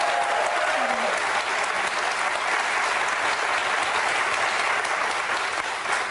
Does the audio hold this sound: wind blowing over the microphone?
no